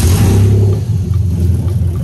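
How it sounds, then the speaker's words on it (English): A 1998-2005 Lexus GS300 with a 2JZ-GE VVT-i engine fires up again, a loud close rumble that settles into a steady, even idle with a slight pulsing beat. "so we're going to fire up again."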